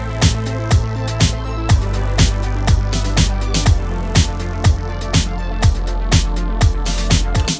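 Synth bass given a bass boost with its highs cut, playing a steady looped pattern together with sharp percussive hits on a regular beat, loud and close, with no voices.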